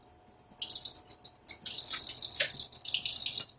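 Tap water runs and splashes into a basin to fill a cockatiel's bath, the flow starting, pausing briefly and then pouring steadily at close range with no talk.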